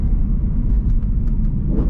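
BMW E90 M3 engine idling with its exhaust valves closed, a steady low rumble heard close up and fairly quiet, with no talking.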